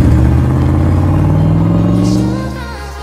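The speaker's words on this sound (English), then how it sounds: "This car is a beast." A muscle car's engine roars loud and close, its pitch climbing steadily through a sustained rev before easing off toward the end, with no talking over it.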